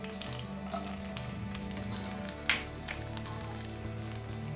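Mustard seeds and garlic fry in coconut oil for a Kerala-style chicken liver fry, a steady close sizzle throughout with a brief sharp crackle near the middle and no talk.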